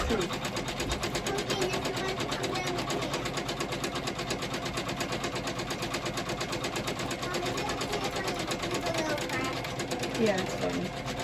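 Janome MC500e embroidery machine stitching a towel in a magnetic hoop, with a rapid continuous mechanical whirring and tapping throughout while people talk over it.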